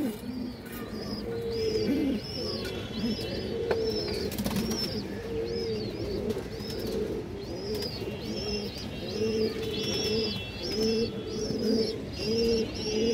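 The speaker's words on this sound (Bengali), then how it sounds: "একটা সাপচিলা মাদি কবুতর" A female Sapchila pigeon coos repeatedly in a steady rhythm among other pigeons, with soft chirps and occasional wing flutters in a busy, moderately loud loft setting.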